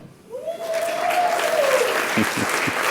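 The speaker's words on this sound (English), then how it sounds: "That's a good cheering section right there at table one." Applause and cheering break out from one table at an awards dinner, a steady roar of clapping with a whistle rising early and a few sharp shouts near the end, loud and close throughout.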